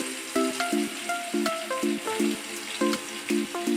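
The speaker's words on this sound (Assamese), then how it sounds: "একেখিনি তেলতে এতিয়া মই পিঁয়াজ পিচি লৈছিলোঁ, সেইখিনি পিঁয়াজখিনি দি দিম।" Ginger-onion paste tipped into hot oil in a pan while cooking a paneer curry, giving a steady close sizzle and frying hiss, punctuated by repeated rhythmic clinks of a utensil against the pan.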